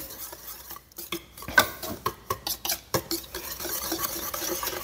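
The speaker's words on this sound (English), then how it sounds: "I have 3 cups of masa here, and I'm going to add 2 1/4 teaspoons of baking powder and get that mixed in." Masa and baking powder being mixed in a bowl for tamale dough, giving a run of soft, rhythmic scraping and stirring strokes with light utensil clinks, fairly close and with no talking.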